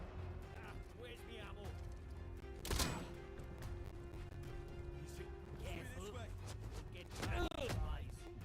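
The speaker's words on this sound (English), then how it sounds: "Oh, this bolt action rifle is so slow. Can't shoot." Sharp gunshot from a bolt-action rifle in a video game, one loud broadband crack near the three-second mark and another fainter burst near seven seconds, over steady game ambience and ongoing talk.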